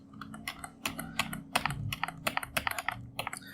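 Keys are tapped on a computer keyboard while working in Blender, a quick run of separate, close clicks in an irregular rhythm with short pauses between them.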